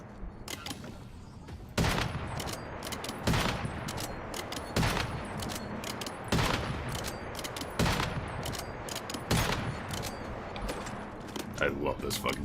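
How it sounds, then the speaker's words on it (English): Loud, booming sniper rifle shots in the video game Once Human fire repeatedly about every one and a half seconds, with other gunfire crackling between them and a voice talking at times. "I can't hear you over the big boom of my sniper"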